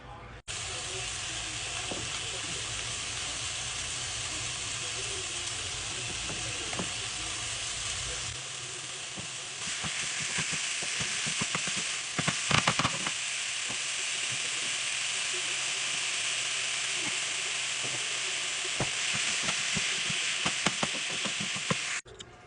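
Ground meat browning in a pan seasoned with salt, pepper and cheap garlic, giving a steady, close frying sizzle throughout, with occasional clinks and scrapes of stirring.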